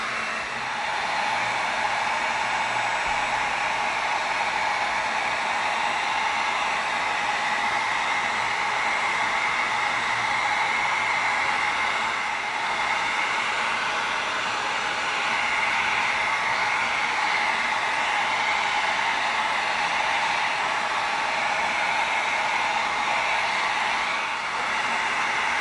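Heat gun blowing hot air to seal the foam edges of an axe guard, a steady loud hiss-like whoosh running unbroken for the whole stretch with no talk.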